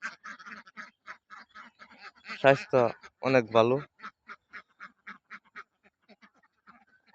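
Ducks on a farm quack in a rapid run of short calls near the microphone, with a brief stretch of a person speaking partway through.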